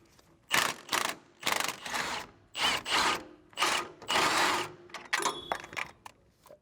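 A hand ratchet loosening an engine mount nut on a Porsche 996 911, heard as repeated bursts of rapid clicking strokes with brief pauses between them, close and clear, with no talk.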